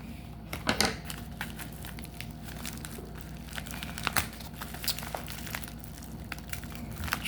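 Crinkly, crackling plastic wrap from a tightly packed, sticky trading card package being cut and pulled open, steady close rustling with a sharper burst early on.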